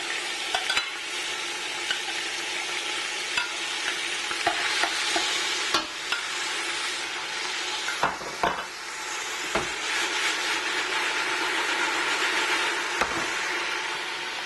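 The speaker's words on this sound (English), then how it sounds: "allow the onion to saute and to release its oils" Finely chopped onion, garlic, ginger and green chili saute in a pan for Sri Lankan chicken curry, giving a steady close sizzle broken by occasional scraping stirs and light knocks of the utensil.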